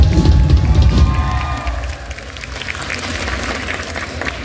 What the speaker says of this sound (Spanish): Un aplauso para ustedes, por favor.